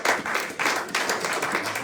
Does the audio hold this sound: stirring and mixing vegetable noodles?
no